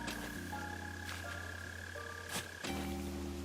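A mole cricket trills in Animal Crossing: New Horizons, a steady buzzing chirp over the game's soft tonal background, with a short break near the end before it resumes.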